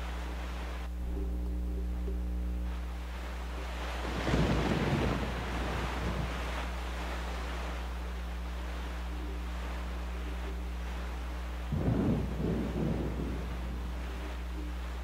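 Stormy open sea while sailing in The Legend of Zelda: The Wind Waker, with steady wind and wave noise broken by two heavy, rumbling surges roughly eight seconds apart, and no voices.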